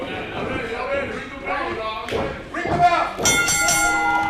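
A wrestling ring bell rings near the end of a pro wrestling match opening, bright ringing tones over thumps and a commentator talking throughout.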